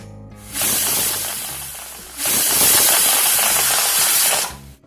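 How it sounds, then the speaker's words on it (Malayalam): Pressure cooker whistling loudly as samba wheat cooks for payasam, two sustained hissing steam bursts, the second longer and brighter, with no talking. "ഇനി കുക്കർ അടച്ച് വെച്ച് 2 വിസിൽ വരുന്നവരെ വേവിച്ചെടുക്കാം."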